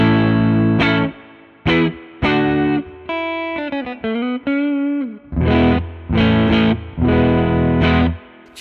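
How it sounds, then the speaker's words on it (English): Fender Player II Modified Telecaster SH played through a Klon-style overdrive pedal and amp plugin, lightly broken-up electric guitar chords and a short single-note run, strummed in separate bursts with gaps between them, close and clear. "I'll be using the Fender Player 2 Modified Telecaster SH,"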